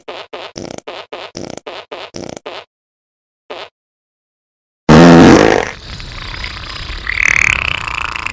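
A cartoonish fart sound effect plays as a rapid string of about eight short, loud blasts, a pause, then one more, followed by a burst of heavy noise and rumbling.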